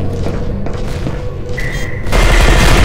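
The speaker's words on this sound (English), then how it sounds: "Cynical's shooting me, and I can't move." Combat turrets open fire in the shooter game E.Y.E. Divine Cybermancy, a dense rattle of booming shots under game noise that swells into a heavier, louder barrage near the end.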